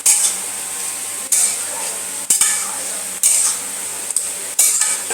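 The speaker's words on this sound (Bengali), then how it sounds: "আমি একটু নাড়বো মা" Fish cooking in a pan is stirred, producing a loud hiss that pulses in short bursts about once a second, each burst starting with a scrape or knock of the spoon.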